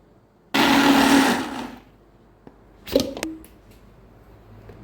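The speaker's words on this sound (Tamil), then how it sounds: "இப்போ மாவு நல்லா அரைச்சிக்கிட்டுருக்கு." A mixer grinder runs on rice and lentil batter for adai dosa, a loud, even motor whir for about a second before winding down, followed by a few clinks and knocks of the jar being handled.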